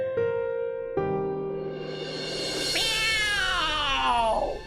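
A cat lets out a long, drawn-out meow that rises and wavers, loud and close, with no talking.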